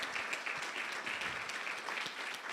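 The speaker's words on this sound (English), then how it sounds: "I really want to give our physicians, especially this team of physicians here and Dr. Tierney, a warm applause for all they do for us" Warm audience applause for a team of physicians, a steady even wash of many hands clapping at moderate loudness, heard alone without talk.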